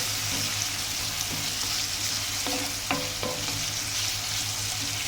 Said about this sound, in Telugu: మనకి ఆనియన్స్ అనేది ఇంకా ఇలా మగ్గితే చాలండి